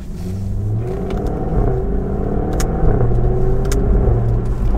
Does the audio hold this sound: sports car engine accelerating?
yes